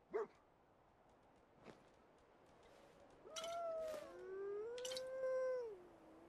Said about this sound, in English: What are you howling at?